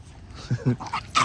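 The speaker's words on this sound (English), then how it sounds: "a hype little dog." A small, excitable dog lets out a few quick whimpers and high yips close by, in short bursts with brief gaps between them.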